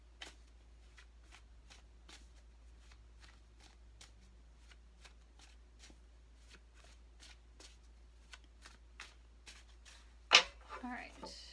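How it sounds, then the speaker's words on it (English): Tarot cards are shuffled by hand in a quiet room, a long run of soft, rapid papery flicks repeating at a steady rhythm, ending with a louder slap and rustle as the deck settles. "I'll pull a tarot card for you."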